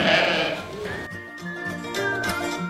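Sheep and goats on a farm bleating, several loud close calls rising and wavering in pitch over a noisy barnyard background, with no talk.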